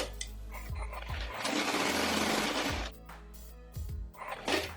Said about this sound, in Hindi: यहाँ से मशीन लगाना स्टार्ट करें